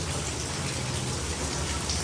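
Dense, steady rain pouring down, loud and continuous with no pauses.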